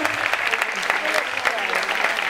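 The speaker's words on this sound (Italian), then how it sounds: "Un applauso a Andrea Cataldo." Audience at an anniversary celebration in Capri applauds, brisk, close clapping from a modest crowd sustained throughout.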